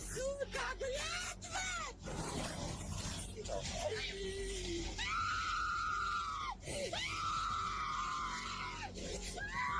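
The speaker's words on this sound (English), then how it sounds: "this woman's screaming is completely insufferable, and it just went on and on and on." A woman screams loudly and drawn-out on a played video, shrill wailing tones rising and holding for seconds at a time, close and harsh, with people talking over and between the screams.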